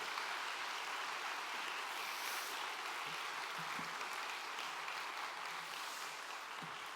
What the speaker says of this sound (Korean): 우리 같이 우리 큰 박수로 격려해 주시겠습니다.